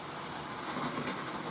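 A model railway train running on its track gives a steady, close, rumbling rolling noise for a brief moment, with no talking.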